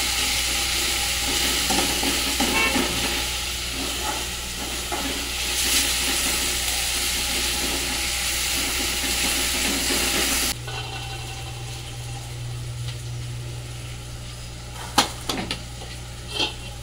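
Stuffed brinjal with coconut cooking in hot oil, a steady loud frying sizzle throughout that drops to a quieter bubbling hiss partway, with a few sharp clinks of utensils near the end.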